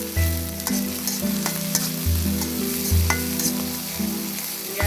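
Hilsa fish frying in oil with onion and chili, a loud, continuous close sizzle running throughout over a steady low droning tone, with no voices.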